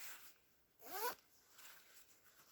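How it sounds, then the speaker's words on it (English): A smooth zipper on a canvas swag bedroll is drawn around in one quick, close rasp lasting about a quarter second, set against a quiet background. "That's a nice smooth zipper going around."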